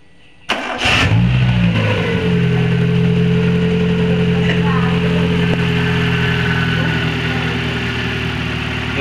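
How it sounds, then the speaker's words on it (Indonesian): A Suzuki Baleno 2000 car engine cranks and fires up, then settles into a loud, steady idle that runs without a break, with some rattling and whining from the engine bay. "Oke, kita akan hidupkan untuk mesinnya."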